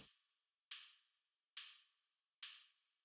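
Ride cymbal in a bass music beat rings out in three evenly spaced, bright strikes, each shimmering wash decaying before the next, heard clearly and alone.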